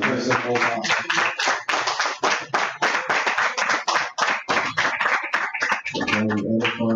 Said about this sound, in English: let's give, you know, the officer another round of applause